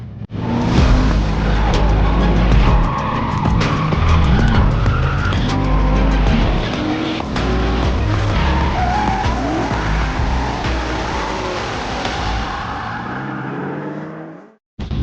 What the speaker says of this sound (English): I'm in Mathieu's S13 and I think we're going to take a little spin on the track